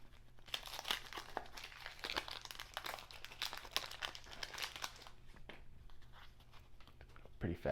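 Crinkling and tearing of 1989 Fleer baseball card pack wrappers, a close, busy stream of crackly rustles that runs nearly continuously, with a sharper burst near the end.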